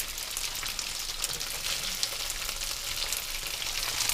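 Fried macaroni sizzles steadily in a pan as it browns on the bottom, a soft, even crackle with no pauses and no voices.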